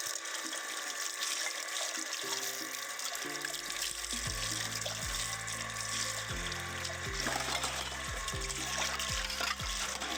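Scrubbed household utensils are rinsed one at a time under a running tap, with water gushing steadily and the pitch rising as vessels fill and are emptied, plus the occasional clunk of metal, all close by.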